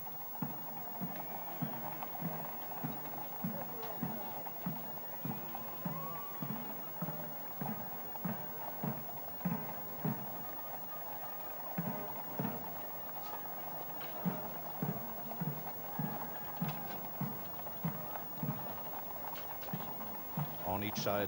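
Hooves of the horses drawing the Queen's royal carriage clip-clop in a steady rhythm along the parade route from Buckingham Palace to Horse Guards Parade during Trooping the Colour, under continuous commentary and a distant crowd.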